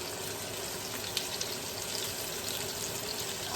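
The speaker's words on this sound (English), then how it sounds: "We want it to sear and get a good browning on it." Ribeye steak searing in a hot pan, a steady broad sizzle with small pops throughout, fairly faint and close, no talking.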